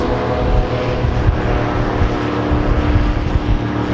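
Airboat engine running near the shore in Darwin, Australia, a loud steady roar of motor and propeller close by, continuous throughout with no talking.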